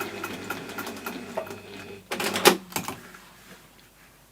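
A domestic sewing machine runs in short bursts as it edge-stitches a fabric clutch bag, a close mechanical whirr and rattle under steady room noise, with a brief loud clack midway.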